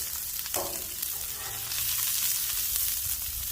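Asparagus with lemon sizzles and is stirred on a Blackstone griddle, with a steady frying hiss, a sharp scrape of stirring near the start and continuous sizzle throughout.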